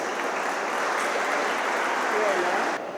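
Applause from an audience at a college cultural inauguration, a loud, dense and even roar of clapping that fills the room and drops off abruptly near the end.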